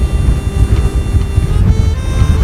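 Force 5 wind buffets a sailing boat under way, a continuous low, gusty rumble across the microphone with no other sound standing out.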